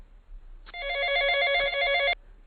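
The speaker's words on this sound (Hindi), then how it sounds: "राजू ने अपना फोन निकाला और सरकारी हॉस्पिटल की एम्बुलेंस इंचार्ज को फोन कर दिया।" A telephone rings in one continuous electronic trill lasting about a second and a half, clear and close against a quiet background, with no talking.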